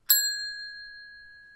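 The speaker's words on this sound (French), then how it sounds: "active la cloche de notification tout de suite" A single bright notification bell ding with a sharp strike and a long, clean ringing decay, heard alone with no other sound.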